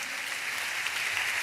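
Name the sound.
congregation clapping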